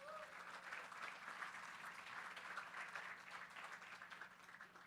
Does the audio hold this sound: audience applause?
yes